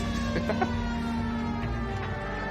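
A police car siren in L.A. Noire wails steadily under engine and road noise, moderately loud and continuous without a break.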